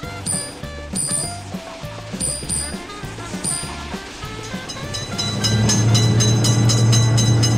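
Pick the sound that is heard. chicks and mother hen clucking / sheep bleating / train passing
train passing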